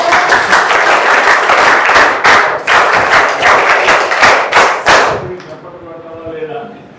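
Schoolchildren in a classroom clap together in loud, uneven bursts for about five seconds before the applause dies away and a voice briefly follows.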